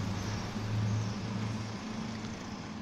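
Morning road traffic rumbles past nearby, with a low, steady engine drone that swells and fades as vehicles go by.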